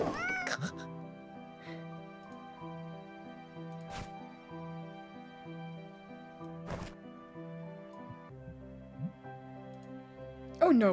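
A cat meows repeatedly in the Children of Silentown game, its rising cries clear and near over a steady musical backdrop, with a few soft thuds.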